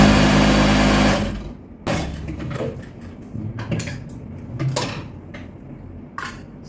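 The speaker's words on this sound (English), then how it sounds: "Then you're going to start sewing it, okay, because we want to make this one piece." A sewing machine stitches hoodie fabric pieces together, running steadily and loud for about a second, then giving several short, quieter bursts of stitching with mechanical clatter in between.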